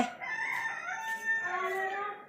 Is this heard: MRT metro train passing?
no